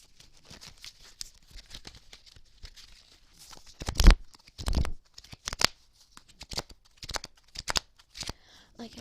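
Tarot cards being shuffled by hand, a steady patter of soft riffling and flicking with a few louder slaps and rustles midway, close and quiet, with soft talking.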